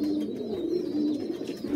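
Pigeons coo in low, soft, rolling calls, several overlapping, close by with a steady murmur underneath.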